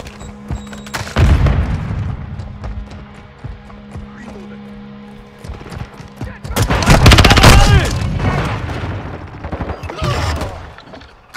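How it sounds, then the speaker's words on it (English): Gunfire and explosions in a first-person shooter video game ring out as booming blasts and rapid bursts of shots, loud and close, rising in heavy clusters with quieter stretches between. "I'm taking enemy fire."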